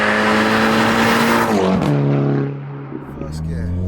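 A 360bhp Revo Stage 2 Plus VW Scirocco R revs hard in the wet, its loud engine note climbing steadily and then dropping away as the wheels spin, close up with a voice talking over it.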